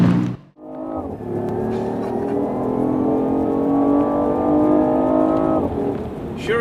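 Alfa Romeo 4C Spider accelerating to overtake, engine note rising firmly after a brief lull and holding a strong, loud, steady pull for several seconds before easing off.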